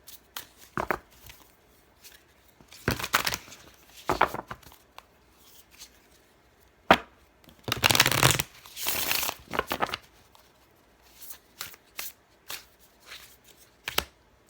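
Oracle cards are shuffled by hand in a quiet room, making repeated soft riffling and slapping bursts separated by short pauses, with one longer, louder shuffle in the middle.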